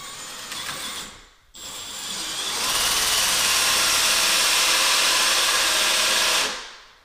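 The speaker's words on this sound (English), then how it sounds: "now that I've got the two and one eighth hole saw in here, I'll start on this side of the jig and gently start" A drill turning a Lenox 2 1/8 inch hole saw cuts into a door through a lock jig, a brief whine, a pause, then a loud sustained grinding bite that builds and holds for several seconds before stopping.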